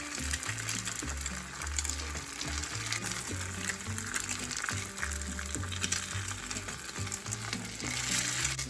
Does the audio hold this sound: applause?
no